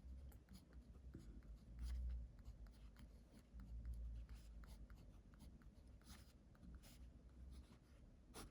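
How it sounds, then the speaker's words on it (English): Faint, close handwriting scratches steadily across paper while a trigonometry sine-rule problem is worked out, with soft irregular strokes and no talking. "So I write again."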